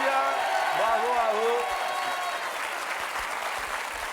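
Studio audience on a French TV game show applauds a magician, a dense wash of clapping with a voice speaking over the start, gradually easing off.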